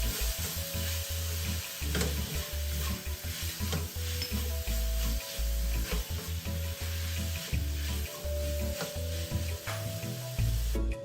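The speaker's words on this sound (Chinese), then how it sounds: "将食材与调味料炒匀" Dumpling filling ingredients seasoned with chicken powder and oyster sauce are stir-fried in a wok, producing a loud, constant sizzle with repeated rhythmic scrapes and clanks of the spatula, and no voices.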